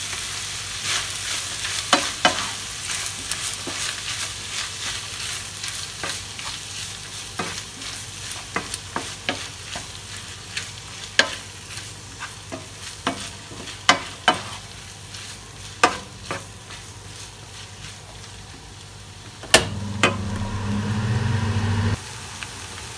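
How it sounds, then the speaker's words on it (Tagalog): Filipino sisig being sautéed in hot oil in a pan, with onions among the ingredients: a steady sizzle and frying hiss runs throughout, broken by frequent sharp clicks and scrapes of stirring, swelling louder near the end. "Maaari na po nating igisa ang ating sisig."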